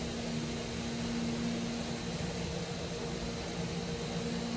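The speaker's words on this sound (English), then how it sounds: "That noise you're hearing, that's my blast cabinet parts cleaner." A blast cabinet parts cleaner runs with a steady, broad mechanical roar and a constant low hum, unbroken from start to finish, no voices over it.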